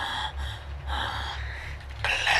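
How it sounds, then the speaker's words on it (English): A person breathes heavily and close up, with a few sharp gasping inhalations and exhalations in quick succession. "Classic breathing of the chest."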